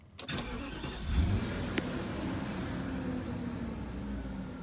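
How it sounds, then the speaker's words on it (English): A 1998 BMW 740iL, just repaired with a new intake manifold gasket, starts with a brief crank and catch, then settles into a smooth, steady idle heard close by with no other sounds. "So, consistent idle. No shaking."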